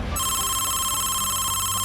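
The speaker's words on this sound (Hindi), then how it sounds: "इस घंटी के बजने पर अगर फोन उठा लिया तो आप अपना सब कुछ गंवा सकते हैं।" Telephone ringing loudly and continuously, a steady electronic ring on one tone, heard alone with no voices, as a phone rings with an incoming scam call.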